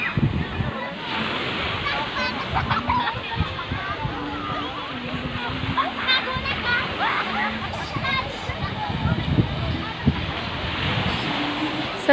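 Sea surf rolls onto the sand at a beach resort: a steady, moderate wash of breaking waves under continuous background chatter and crowd noise.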